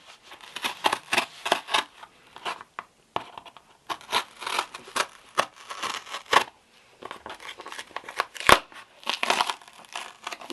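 Close, repeated crunching snips of scissors cutting through cardboard, bursts of rough scraping strokes in an uneven rhythm, with short gaps and a sharp click partway through; no voices.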